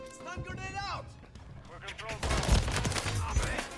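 Rapid Holger 556 gunfire in Call of Duty MW3, bursts of automatic shots in close-quarters play, loud and punchy under an overlaid voice talking.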